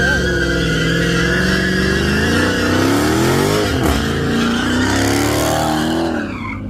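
A Dodge Charger Scat Pack does burnouts, its engine revving loud and close as tires squeal and skid continuously, the pitch sweeping up and down before easing off at the end.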